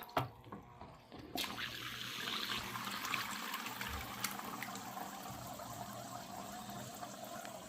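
Air pump bubbling oxygen into water in a newly filled stock-tank aquarium pond, a steady loud hiss and gurgle that starts after a short pause and runs continuously, fairly close and noticeably louder than a canister filter.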